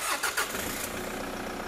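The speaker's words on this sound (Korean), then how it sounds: "시동 좀 한번 걸어 주십시오" A diesel car engine cranks with a few quick starter pulses, catches and settles into a steady, fairly loud idle during an engine diagnostics check.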